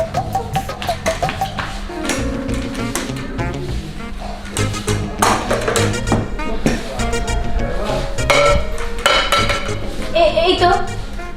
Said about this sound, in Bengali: কিসের জন্য শব্দ পাচ্ছি? প্লেট।